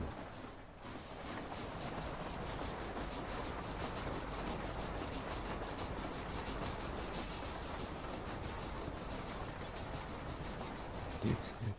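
A train rolls steadily along in the Red Dead Redemption video game, a dense, continuous rumble with faint clicking of wheels on rails that holds level throughout, with no talking.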